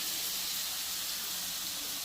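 Fried prawns dropped into a pan of sizzling tomato masala give a steady, loud, broadband hiss that holds without a break and carries no voices.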